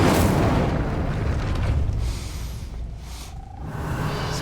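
A spell of fire cast in Hogwarts Legacy, with a loud, dense roaring whoosh that sustains and then eases slightly before building again, with no voices present.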